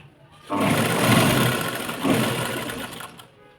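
A sewing machine stitches fabric strips for a blouse-piece table napkin, running in two close whirring bursts with a steady mechanical rattle, fading out at the end.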